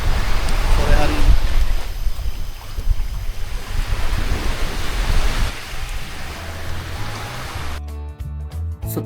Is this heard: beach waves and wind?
yes